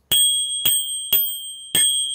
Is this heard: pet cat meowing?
no